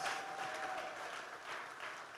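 Congregation clapping in a church service, a steady wash of many hands clapping together at moderate distance with a faint sustained tone sounding briefly over it.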